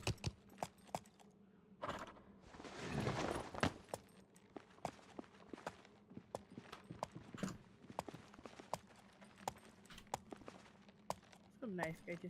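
Horse hooves clip-clop steadily in a video game set on northern plains, a quick uneven trotting rhythm with a louder scramble partway through, while a person talks over it.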